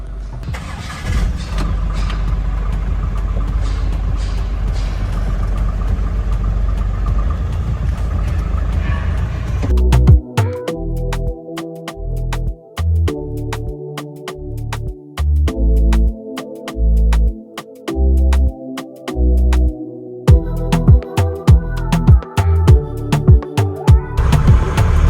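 A new Ashok Leyland Bada Dost i6 light truck's engine runs with a loud, steady mid-pitched drone as it pulls away from a showroom, before a rhythmic music track takes over for the second half.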